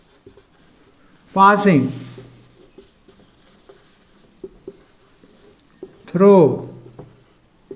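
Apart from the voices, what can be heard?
writing on a board during a physics lecture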